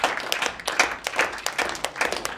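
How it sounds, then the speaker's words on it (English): A small room of students at a student senate meeting gives a short round of applause, a few hands clapping in an uneven patter for a couple of seconds. "applause."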